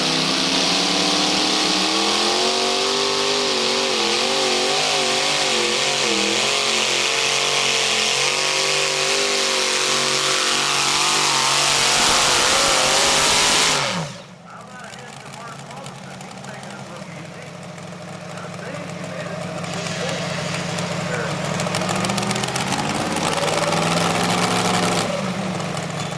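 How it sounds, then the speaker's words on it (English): A tractor pull truck with twin big block Ford engines roars at full power, loud and close with a wavering pitch, then drops off abruptly midway to a lower rumble under crowd noise and an announcer's voice. "sporting twin big block Ford motors"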